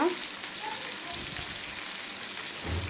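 Fish pieces coated with onion and chili powder frying in hot oil, a steady crackling sizzle close by with light stirring and a faint clunk near the end.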